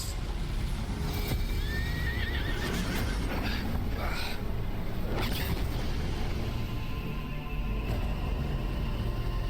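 A horse in the video game Final Fantasy XVI whinnies over a dense, constant wash of game ambience and effects, with its rising-falling calls briefly standing out and no speech heard.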